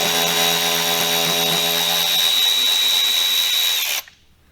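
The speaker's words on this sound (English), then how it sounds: "Now we're going to take a 9/32 socket and undo this upper mount right here" A power drill driving a 9/32 socket to undo an upper mud flap mount on a 2020 Dodge Challenger Hellcat Widebody, a loud steady whine held for about four seconds before cutting off abruptly.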